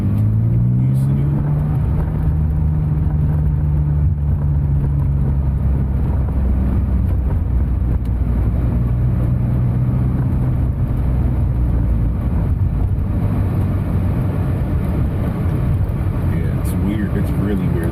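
Interior of a fully built BMW E36 M3 track car on the move, its engine holding a loud, steady drone with shifts in pitch as it changes speed, with wind and road rumble throughout.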